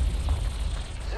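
A weapon reloads in Apex Legends with a brief, dense mechanical clatter of ratcheting metal. It sounds close and fairly loud, with no voice over it.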